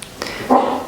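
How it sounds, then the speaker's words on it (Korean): A dog indoors lets out a short, fairly loud bark-like yelp close by, a single burst heard alone without talk. "희동이가 또 짖기 시작했어요."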